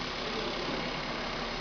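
A car engine runs normally at idle during hands-on engine assembly training, a steady, even mechanical hum and whirr heard at low level and close, with no voices.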